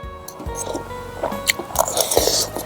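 Someone slurps and chews boiled snake soup up close, wet squishy bites and mouth sounds coming in irregular bursts with no talking.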